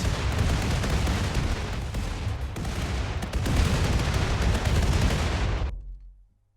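A ship-mounted weapon fires in the Rimworld video game as a loud, dense barrage of overlapping bursts that rolls on for several seconds, then cuts off abruptly into silence.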